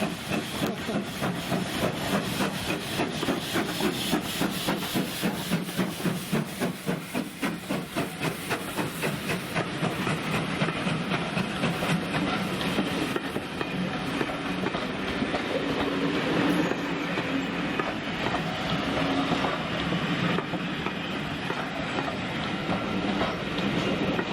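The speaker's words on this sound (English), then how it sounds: "So the train's not going to move out of your way, pigeon?" A heritage train on the West Somerset Railway rolls past close by, a steady rhythmic clatter of wheels over rail joints with hissing steam, loud and continuous for the whole stretch.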